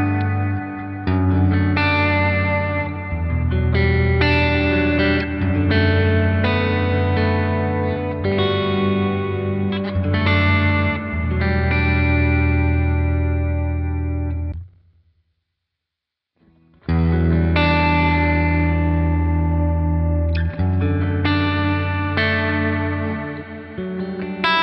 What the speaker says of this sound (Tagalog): Ito yung church reverb.